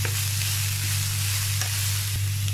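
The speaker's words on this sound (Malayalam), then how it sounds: "നന്നായിട്ട് ഇളക്കി കൊടുക്കാം." Long beans fry with a ground spice paste, giving a dense, even sizzle over a steady low hum, with a few faint taps of a stirring spoon and no voices.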